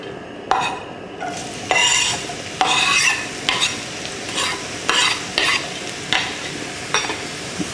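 Onion sautés in oil in a pan for a Mediterranean vegetarian dish, a close sizzle punctuated by a regular series of scraping, clattering stirs against the pan.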